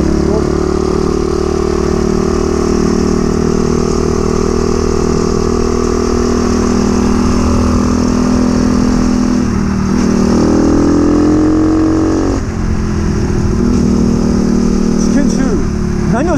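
A Choinori scooter fitted with a swapped Monkey-type horizontal engine, modified for circuit riding, runs loud and close with a steady droning, rattling engine note that briefly dips and rises in pitch.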